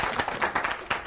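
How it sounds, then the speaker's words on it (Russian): Short burst of audience applause at a school quiz competition, a handful of distinct claps close together at moderate volume, brief and uneven. "Аплодисменты."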